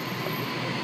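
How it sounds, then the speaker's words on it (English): A Sydney Waratah A19 electric train pulls away from platform 1 at Artarmon, a steady close rumble of wheels and motors with faint rail squeal, and no voices. "Waratah A19 now departs platform number 1 for a Richmond service"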